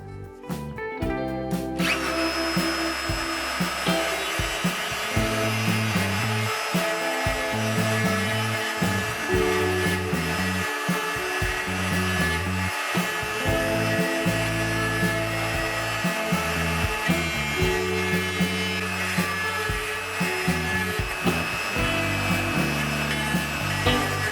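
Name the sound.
router with bearing-guided cutter trimming wood along a template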